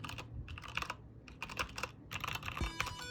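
Typing on a Keychron K8 computer keyboard comes through as quick, uneven bursts of close, crisp key clacks with short pauses between them, and no voices.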